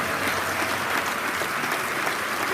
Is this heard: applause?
yes